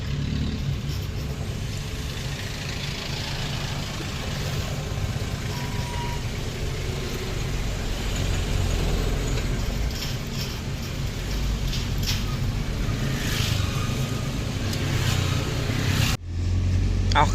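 A new Toyota Mighty-X pickup truck with a burst coolant leak, patched by the roadside, drives steadily along with a continuous mid-pitched engine drone and road rumble, loud and close throughout, briefly dipping near the end.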